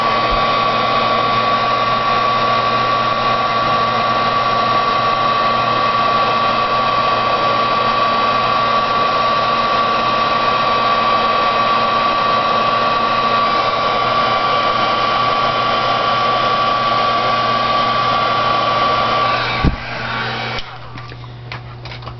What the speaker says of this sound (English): As always, you want to make sure you're using a heat gun, not a hairdryer.